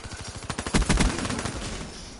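Rapid automatic gunfire in a first-person shooter game: a fast, loud, close volley of shots that builds and peaks midway, then trails off into a decaying rumble.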